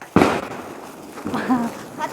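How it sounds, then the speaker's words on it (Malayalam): A firecracker bursts with a single sharp bang during Vishu eve celebrations at home, followed by people talking and exclaiming. "അടിപൊളി പടക്കാണ്"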